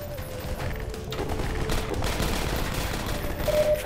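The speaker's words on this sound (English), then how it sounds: "What are they shooting at?" Sustained bursts of automatic and rapid gunfire in the video game Half-Life 2 Episode 2, a dense continuous fusillade with loud overlapping shots and no speech.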